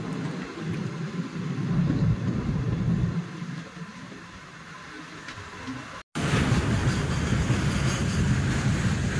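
A train waits on a loop of a single-line railway near Guwahati while a goods train crosses, with a steady low rumble that eases, breaks off briefly, then returns louder and denser.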